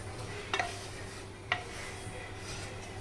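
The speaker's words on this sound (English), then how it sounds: "we have to go on stirring it" A spoon stirs a thick flour, butter and milk sauce in a pan, producing a soft steady scraping texture with two brief, sharper knocks against the pan.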